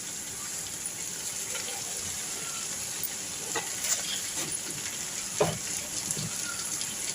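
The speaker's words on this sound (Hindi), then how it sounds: "मसाले को अच्छे से भून लेंगे।" Garam masala and other spices fry in a pan over low gas for a vegetable sabji, giving a soft, steady sizzle with faint scraping from stirring, close and quiet, with no speech.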